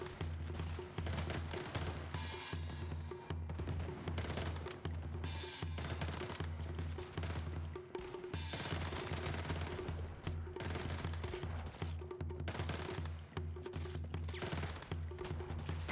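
Sustained automatic fire from a Vector submachine gun in the Once Human video game, rapid bursts of shots repeating almost without pause over a steady low rumble, loud and continuous throughout.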